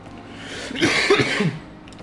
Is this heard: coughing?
yes